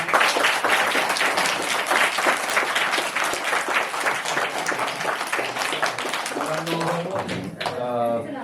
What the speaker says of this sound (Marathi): सगळ्यांसाठी एकदा जोरदार टाळ्या वाजवा